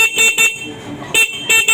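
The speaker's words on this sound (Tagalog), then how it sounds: "Yan, yung busina natin." A small electric bike horn honks loudly and close by in several short beeps, with a brief pause in the middle.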